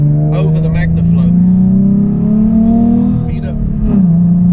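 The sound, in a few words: Ford Mustang 3.7L V6 Roush exhaust crackles and pops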